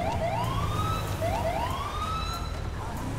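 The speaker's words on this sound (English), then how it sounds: "I love this new siren" A police car siren in GTA 5 wails in repeated rising sweeps over a low rumbling engine and road noise, moderately loud and cycling steadily.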